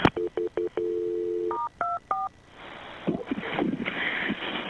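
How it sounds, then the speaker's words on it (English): Telephone keypad tones beep in quick succession as a number is dialed during an emergency call transfer to a fire department, with clear short dual-tone beeps followed by faint line noise and rustling. "Isn't that crazy how it keeps recording while they're dialing?"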